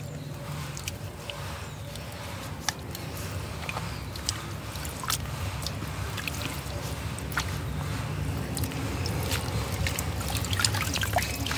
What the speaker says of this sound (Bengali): তো এই যে আমি এটাকে ধুয়ে নিচ্ছি।